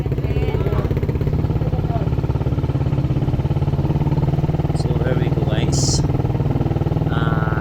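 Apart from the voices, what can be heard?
motorcycle engine with open 34mm carburetor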